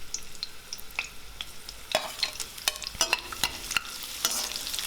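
Garlic and green chillies, cut lengthwise, frying in hot oil in a kadai over high flame, giving a steady close crackle and sizzle with scattered sharp pops and occasional stirring scrapes.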